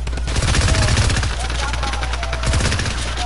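Drum gun in a video game firing a rapid fully automatic stream of shots, loud and close, the burst running for about three seconds.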